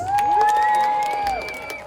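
An outdoor animal show crowd at African Lion Safari cheers for the vultures team, a loud sustained whoop and shouting over steady crowd noise, tapering slightly toward the end.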